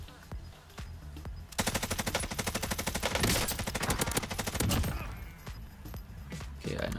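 Bruen MK9 machine gun in Warzone firing a long sustained burst of rapid, evenly spaced shots after a few isolated clicks, loud and close, then trailing off into quieter game sounds.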